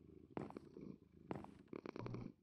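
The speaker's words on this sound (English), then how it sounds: "Oh, he's purring." A Halloween-themed cat in the Minecraft video game purrs and mews in short bursts, fairly close and clear, with a low rumbling purr underneath and no talk over it.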